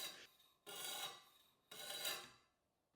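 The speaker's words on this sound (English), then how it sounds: "Once that is set, you have multiple ways to sharpen." A knife is drawn across a stone on a TSPROF Pioneer guided sharpening system, giving three soft, raspy grinding strokes in a slow, even rhythm, close and quiet, with no talking.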